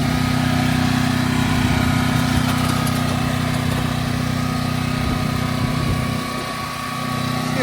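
A Westinghouse WGen9500TFc tri-fuel generator runs steadily close by, a loud continuous engine drone with a stable low hum that eases slightly near the end.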